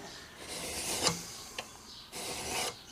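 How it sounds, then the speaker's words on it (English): A file scrapes in long draw-filing strokes along a steel knife tang for a fillet knife, a raspy rubbing that swells and fades over about three strokes with a couple of small knocks, close and alone. "Just draw filing."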